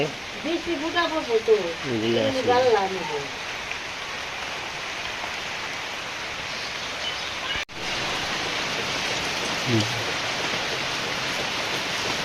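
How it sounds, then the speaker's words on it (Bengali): Heavy rain pours down steadily outdoors in a continuous loud hiss of drops. A voice is heard briefly near the start. "তো বলতে না বলতে দেখেন বৃষ্টি এসে গেছে গা।"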